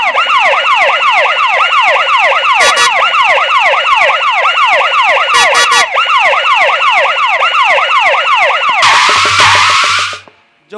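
An ambulance siren wails loudly and close in rapid rising and falling sweeps, repeating steadily for several seconds before a harsh noisy burst and abrupt cutoff.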